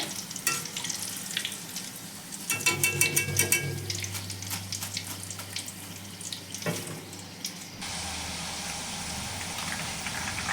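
Sliced potato chips fry in hot oil with a steady close sizzle, broken by clattering stirring and scooping, then a shift to a smoother, even hiss toward the end.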